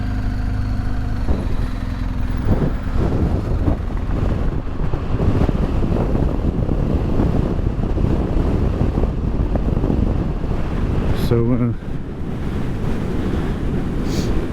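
Strong coastal wind at Malin Head, Ireland, roaring loudly and continuously across the microphone with crashing surf underneath for the whole stretch; a brief vehicle-like tone passes near the end and a voice utters a single word.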